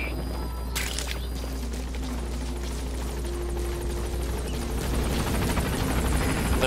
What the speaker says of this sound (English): Chopper's almost here.